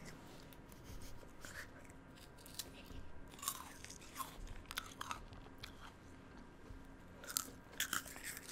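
Crunchy snacks being chewed, sounding as scattered soft crunches and bites over a steady background hiss, faint and irregular.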